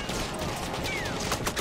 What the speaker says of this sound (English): I'm getting shot at